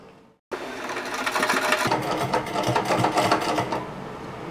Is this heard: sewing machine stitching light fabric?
yes